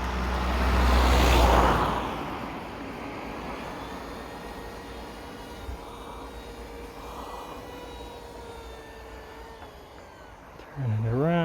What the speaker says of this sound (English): Wait for the car to pass.